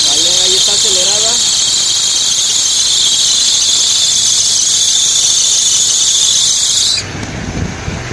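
Carburetted engine on a Holley carburetor held at high idle with the throttle latched open, a steady loud whine and roar that cuts off near the end, with a faint squeal at the start.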